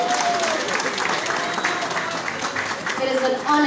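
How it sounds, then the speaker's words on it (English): Audience applause at an event where a former Zimbabwe Warriors football legend is introduced on stage, a steady dense patter of clapping filling the room with a faint whistle-like tone and some voices mixed in. "A round of applause, guys. A round of applause."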